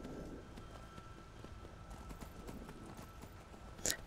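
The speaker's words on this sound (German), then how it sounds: "So, hier ist mein Pferd." Horse hooves clip-clopping in the video game Skyrim, a steady run of soft thuds under constant game ambience, ending with a brief bright clatter near the close.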